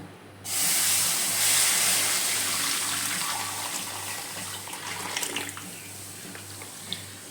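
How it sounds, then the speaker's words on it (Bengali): Steady rushing stream of milk pouring into a wok on the stove, starting abruptly and continuing evenly, loud and close, with no talking. "এতে এবার দুধটা আমি দিয়ে দেবো"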